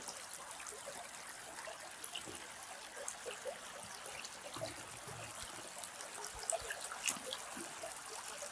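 Water flowing in a stream near Elkhorn Lake, a steady soft trickling wash with small splashes and bubbling, continuous and fairly faint, no voices.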